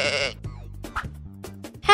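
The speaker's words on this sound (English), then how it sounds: "Sheep." A sheep bleats once in a wavering, nasal cry, heard up close amid a children's farm-animal vocabulary lesson, with brief musical or voiced sounds around it.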